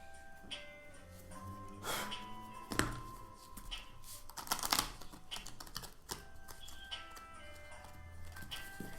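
Quick riffling clatters of playing cards being shuffled, in a few bursts with soft taps between, close by and fairly quiet.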